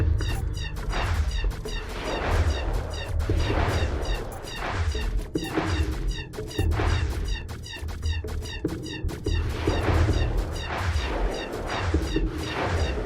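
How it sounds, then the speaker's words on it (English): Missile launcher fire in the space strategy game Zotrix Solar Division, a rapid run of loud, sharp blasts and crashes repeating steadily for the whole stretch over a rumbling low background. "Missile launcher great strategy."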